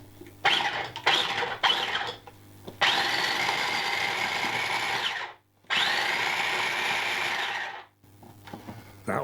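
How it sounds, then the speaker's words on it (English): A food processor blitzes tomatoes, chilli, ginger and garlic in a kitchen, starting with a few short pulses and then running in two long, loud whirring bursts separated by a brief pause. "Put the tomatoes, the chilli, the ginger, the garlic into a food processor and blitz away merrily."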